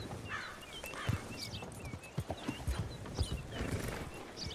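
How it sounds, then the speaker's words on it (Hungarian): Horses clip-clop at a walk with repeated neighs and whinnies in the Red Dead video game, two white steeds present, hoofbeats irregular and moderately close, no talk over them. "Hát itt van két gyönyörű fehér paripa"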